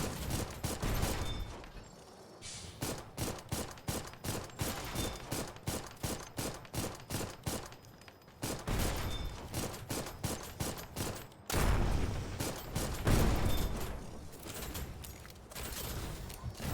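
Bursts of automatic gunfire in a shooter video game ring out in rapid volleys, one dense run of shots after another with brief pauses, loud and close throughout.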